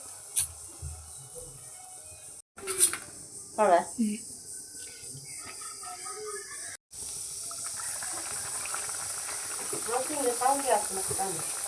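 Chicken frying in hot oil at a home kitchen on a rainy day gives a steady, bright sizzle that builds and persists in the latter half, with brief gaps and someone speaking intermittently over it.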